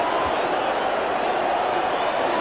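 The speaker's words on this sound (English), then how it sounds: "this crowd has gone absolutely mad at Lane Park" Rugby league crowd at Lang Park in a dense, steady roar of cheering and noise that fills the whole clip, loud and continuous with no distinct claps standing out.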